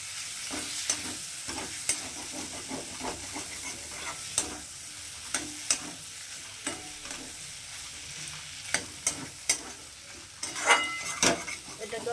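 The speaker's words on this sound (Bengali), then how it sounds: "আলুগুলোকে এখন আমি এর সঙ্গে একটু ভালো করে কষিয়ে নেবো" Pre-fried potatoes being stirred and sautéed in spiced masala for an onion- and garlic-free matar paneer: a low sizzle broken by repeated sharp spatula scrapes against the pan, close, with a busier flurry near the end.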